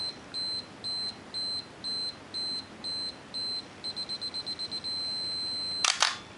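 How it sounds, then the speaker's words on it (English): A Minolta X-570 film camera's self-timer gives a steady run of loud, evenly spaced high beeps that speed up into rapid pips, then hold as one continuous tone before the shutter fires with a sharp mechanical click. "The self-timer does work."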